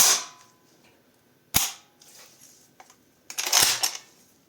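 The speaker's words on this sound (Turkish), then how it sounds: "Bir düşürelim mekanizmayı." Shotgun action mechanism is dropped and snaps shut in a few sharp metallic clacks, one isolated click followed by a cluster of rattling snaps, close and loud in a quiet room.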